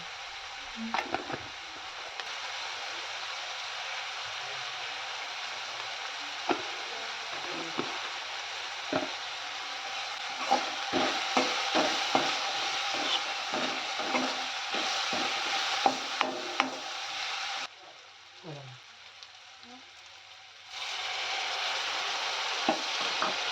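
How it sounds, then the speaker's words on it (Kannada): Tomatoes fry with turmeric and salt for a Mangalore soya sukka, giving a bright, continuous sizzle broken by clattering stirs and scrapes. The sizzle dips quieter for a few seconds before returning, close by and without talk. "ಇದನ್ನು ಹಾಕಿ ಚೆನ್ನಾಗಿ ಫ್ರೈ ಮಾಡ್ಕೋಬೇಕು"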